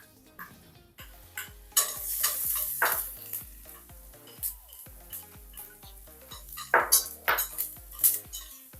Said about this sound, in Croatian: Na malo ulja Ona je propržila 3 čena bijelog luka